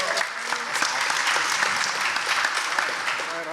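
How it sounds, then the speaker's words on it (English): Audience at a startup showcase event clapping, a steady round of applause with distinct individual claps close by, lasting a few seconds. "Let's give it up for Tammy"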